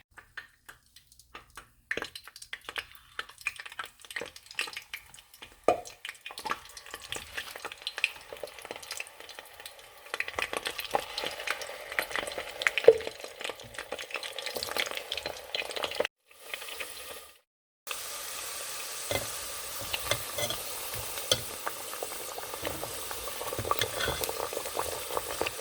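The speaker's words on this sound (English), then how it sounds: "I'm gonna let it get hot and then I'll add the plantain to it." Plantains deep frying in hot oil in a deep fryer: crackling, bubbling sizzle with scattered pops and stirring clatter, building louder and denser toward the end.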